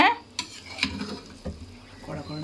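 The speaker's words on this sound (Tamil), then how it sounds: "நம்ம நல்லா இப்படி கிண்டி விட்டுக்கலாங்க" A thick mixture being stirred in a pan for a festival sweet-and-savory dish, with a few distinct scraping strokes of a spoon against the pan bottom over a soft low bubbling, close and alone with no speech.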